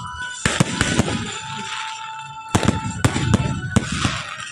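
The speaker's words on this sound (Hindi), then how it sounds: "इतनी बड़ी आतिशबाज़ी आज से पहले आपने कभी नहीं देखी होगी" Independence Day fireworks burst over Islamabad, sharp loud cracks and booms arriving in irregular clusters over a continuous crackling crowd-like background.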